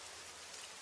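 Rain falls in a soft, even hiss of countless drops, steady and faint throughout, with no voices or other sounds.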